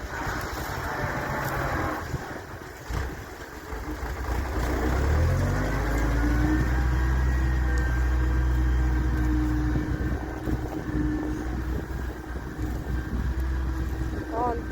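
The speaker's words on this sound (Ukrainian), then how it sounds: "трактор нічого диви, як їде" A tractor engine rumbles and grows louder as it passes nearby while cultivating a dusty field, with people talking over the steady drone.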